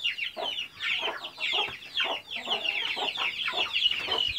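Naked neck chickens cluck in quick, repeated bursts, fairly close and steady, with no talking over them.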